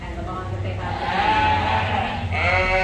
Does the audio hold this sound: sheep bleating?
yes